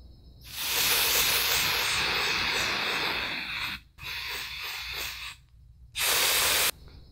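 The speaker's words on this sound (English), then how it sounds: "I always get so nervous when I'm about to spray things on my face like this" A drugstore powder spray is sprayed onto a face in three close hissing bursts, the first long and steady, then a shorter pause-broken spray and a final brief blast.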